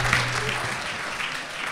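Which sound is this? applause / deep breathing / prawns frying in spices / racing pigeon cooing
applause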